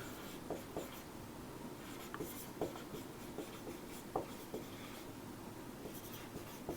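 Pen or chalk writing out the proportionality constant in Coulomb's law, a soft steady scratching with light strokes and taps at irregular intervals, faint and close, with no talk over it.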